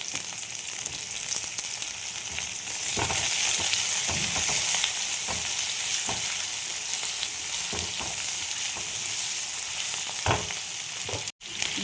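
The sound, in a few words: onions and potatoes frying in a pan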